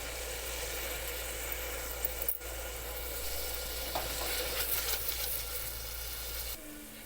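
Fenugreek seeds stirred into onions sautéing in a pressure cooker for chicken curry, giving a continuous close sizzle with scraping stir noises and a faint low hum, cutting off near the end.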